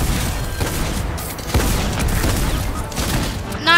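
A shotgun fires repeatedly in Fortnite, giving a run of loud, close booming blasts about half a second apart over steady game noise.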